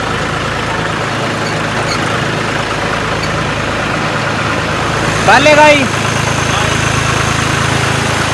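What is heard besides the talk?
tractor engine revving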